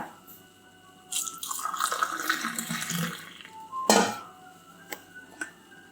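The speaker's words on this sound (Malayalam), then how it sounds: "നമുക്കത് ഗ്ലാസ്സുകളിലേക്ക് ഒഴിക്കാം" Hot masala tea is poured into glasses, a splashing liquid stream running for a couple of seconds, followed by a sharp clink of glass or metal and a few lighter taps.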